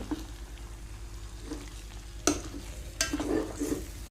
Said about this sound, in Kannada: ಒಗ್ಗರಣೆಗೆ ಎಣ್ಣೆ ಹಾಕಿ ಅದಕ್ಕೆ ಸ್ವಲ್ಪ ಉದ್ದಿನ ಬೇಳೆಯನ್ನು ಹಾಕಿದ್ದೇನೆ